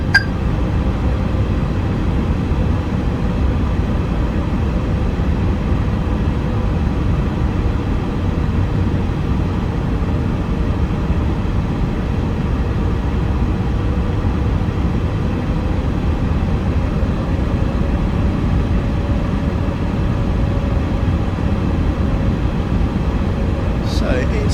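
Steady, broad engine roar from an Airbus A350-1000 in Virgin Atlantic livery in flight, from Microsoft Flight Simulator 2024, droning evenly throughout with a voice talking over it.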